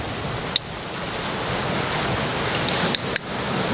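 Ocean water rolls in near a cave at Cathedral Rocks, a steady broadband surf wash with wind across the microphone, plus a few brief sharp clicks.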